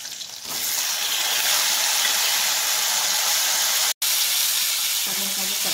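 Tomatoes and green chillies fry in a pan for tomato pickle, a loud steady sizzling hiss that fills the clip, broken by one brief silent gap near the end.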